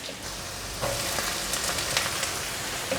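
Shiitake mushrooms sizzle in hot oil in a wok, a dense, bright crackle that holds steady and close, briefly growing louder when they go in, with no voices.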